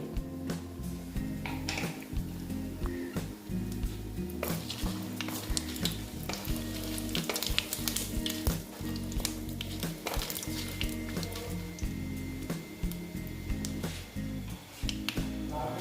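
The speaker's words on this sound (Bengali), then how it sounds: "তেলটা প্রায় গরম হয়ে গেছে আমি এখন দুটো শুকনো লঙ্কা দিয়ে দিচ্ছি তারপরে দিচ্ছি তেজপাতা তারপরে দিচ্ছি গোটা জিরে" Dried red chillies, bay leaf and whole cumin spluttering in hot oil in a pan, a continuous close sizzle with scattered pops and crackles, with occasional stirring taps throughout and no talk.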